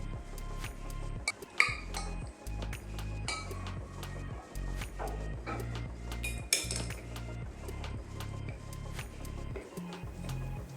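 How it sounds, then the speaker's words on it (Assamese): A spoon presses mango pulp through a metal sieve, giving repeated close metallic scrapes, taps and clinks in an uneven rhythm over a low background hum. "এতিয়া এই আমখিনি চেকনিখনৰ সহায়ত এইদৰে চামুচ এখনেৰে হেঁচি দিলে আমৰ পেষ্টখিনি মিহি হৈ তললৈ পৰি যাব"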